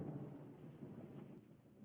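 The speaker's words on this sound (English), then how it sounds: "A torrential downpour falling from the sky." Low, rumbling wash of heavy video game thunderstorm rain with a distant thundery roll, fairly quiet and continuous throughout.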